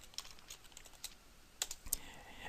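Quiet, sparse typing on a computer keyboard while working in Houdini software: a handful of soft, irregular keystrokes with a couple of sharper taps near the end, no voices.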